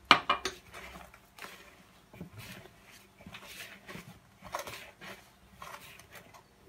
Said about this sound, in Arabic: دابا غادي نحرك شو مزيان